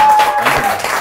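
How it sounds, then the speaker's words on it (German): A short burst of crowd applause, dense and steady clapping from many hands throughout. "Großen Applaus"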